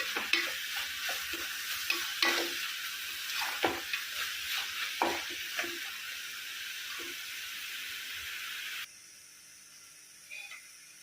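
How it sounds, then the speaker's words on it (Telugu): Curry paste frying in oil for a country-egg and dried-fish curry while being stirred, with repeated spatula scrapes over a soft sizzle that fades to near quiet at the end. "ఇది ఆయిల్ పైకి వచ్చే వరకు వేయించుకోవాలి"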